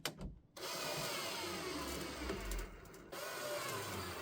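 A power driver whirs as the last two fasteners go into a teardrop trailer galley light, two sustained buzzing runs separated by a brief pause, close and fairly quiet with no talk.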